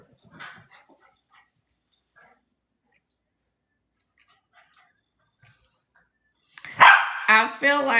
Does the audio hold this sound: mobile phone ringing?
no